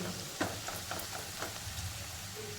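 Fenugreek leaves and potato pieces are stir-fried in a pan, heard as a soft, faint sizzle with light scraping stirs and a few taps of the spoon, without speech.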